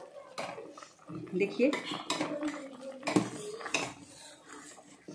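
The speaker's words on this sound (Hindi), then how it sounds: "इसको अच्छी तरह से चला लेना है।" A spoon scrapes and clinks against a metal pot while pumpkin kheer is stirred. The irregular knocks and rasps are close and fairly loud, with a brief spoken word partway through.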